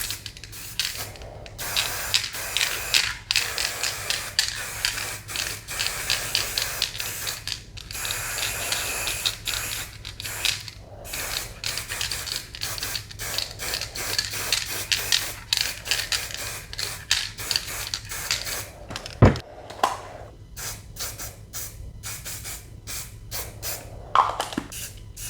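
Aerosol can of Sahara beige spray paint hissing in repeated bursts, separated by short pauses and occasional clicks and rattles, loud and close throughout.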